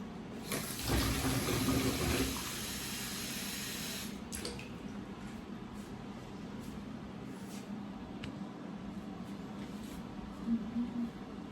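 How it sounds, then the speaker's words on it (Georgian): Tap water gushes from a kitchen faucet into a vessel being filled to make coffee, a loud steady stream that starts strong and settles into a continuous, slightly softer flow for the rest of the clip. "მოდი წყალი დავდიოს"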